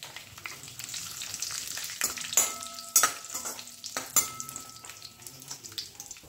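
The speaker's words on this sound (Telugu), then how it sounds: "కొంచెం సాజీరా, కొన్ని క్యాష్యూ వేసుకొని మంచిగా ఫ్రై చేసుకోండి" Cumin seeds (shahi jeera) and cashews frying in melted ghee for a brown rice vegetable pulao: a soft, steady sizzle broken by several sharp stirring scrapes and clinks of a spoon against the pan.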